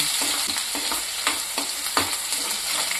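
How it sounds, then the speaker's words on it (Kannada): Onion and curry leaves fry in hot oil with mustard seeds for chana masala, a steady close sizzle broken by periodic scraping stirs of a spoon in the pan. "ಸ್ವಲ್ಪ ಈರುಳ್ಳಿ, ಅರ್ಧ ಈರುಳ್ಳಿ, ಕರಿಬೇವು ಸೊಪ್ಪು ಫ್ರೈ ಮಾಡ್ಕೊಳ್ಳೋಣ."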